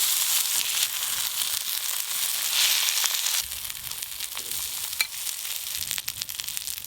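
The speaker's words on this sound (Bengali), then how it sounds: "পাতুরিগুলো অল্প আঁচে ভাজা করছি" Fish roe paturi wrapped in pumpkin leaves fries in mustard oil over low heat, giving a steady close sizzle with crackles that shifts after a few seconds. A sharp pop comes near the five-second mark.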